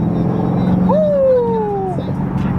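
A 2007 Chevrolet Corvette C6 with a 6.0 LS2 V8 heard from inside as it drives, a steady low engine drone, with a brief rising whine over it.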